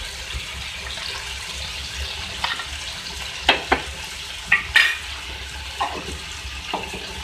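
Coriander powder stirred into a pan of sizzling spices for aloo ki katliyan: a soft steady fry hiss with a few sharp scraping clicks from a spoon against the pan, close by and moderately quiet, no voices.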